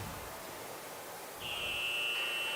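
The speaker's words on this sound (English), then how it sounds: "And there's the buzzer." A buzzer sounds at a junior varsity high school hockey game in a rink, a sustained steady electronic tone starting partway through and holding over the low hum of the arena.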